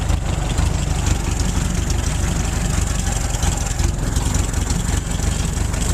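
A Model A Ford engine running steadily, a loud, dense mechanical drone and clatter that holds constant throughout, with no voices.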